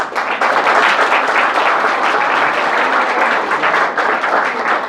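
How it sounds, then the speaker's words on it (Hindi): A college audience applauding at a motivational talk, a dense, loud, continuous burst of many hands clapping together that carries on throughout without talk. "भाई उनके लिए सब लोग ताली बजाओ।"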